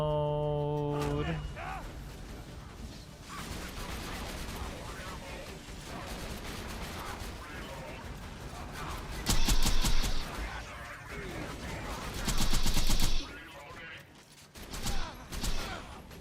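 Rapid video-game gunfire as a magazine is emptied, a dense, continuous clatter of shots with two louder bursts near the end, mixed with game noise and occasional talk.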